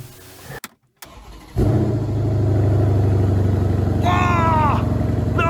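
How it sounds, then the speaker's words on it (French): A Mercedes E63S AMG with its DPF removed is started: the starter cranks briefly, then the engine catches with a loud roar and settles into a heavy, throbbing idle. A person briefly exclaims over the engine noise. "je propose qu'on démarre la voiture ensemble et je pense que le bruit va être un peu plus sympathique"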